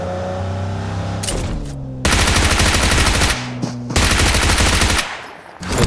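Automatic gunfire in PUBG Mobile, loud and close, in long dense bursts split by short pauses, with a low steady game hum underneath at the start.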